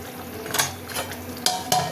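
Metal clatter of a lid set onto a pot of fish curry with ridge gourd, pumpkin and potato, heard as a couple of sharp clanks near the end of a stretch of faint kitchen noise and stirring.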